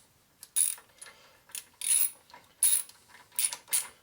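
A tool ratchets while a bolt is tightened on a Harley Evo motorcycle engine on a rigid custom chopper, giving short metallic clicking bursts in an irregular rhythm, close and fairly loud against quiet gaps.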